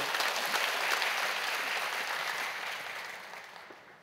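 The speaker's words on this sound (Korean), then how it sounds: "박수 한번 하시죠." A church congregation bursts into sustained applause right after a worship song during a Bible college lecture, the dense clapping steady at first and then gradually fading toward the end.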